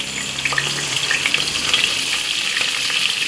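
Thinly sliced onions frying in a pan for mushroom biryani, a dense steady sizzle with light crackling and occasional stirring, close and continuous without speech.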